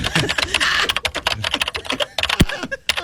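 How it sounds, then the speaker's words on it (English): Rapid, loud clacking of computer keys, an irregular burst of hard keystrokes close up with a few heavier thumps. "Wow, he's typing real loud."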